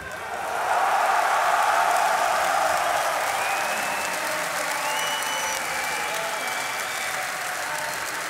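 A large crowd at a Dota esports grand final claps and cheers in a broad, sustained roar that holds steady for several seconds, with faint voices beneath.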